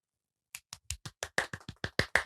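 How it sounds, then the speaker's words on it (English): About ten sharp, close hand claps from a small group after an announcement of Wim Hof Method instructor certification, uneven and spaced apart, alone with no talk over them. "Round of applause."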